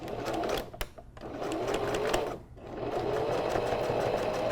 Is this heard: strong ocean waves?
no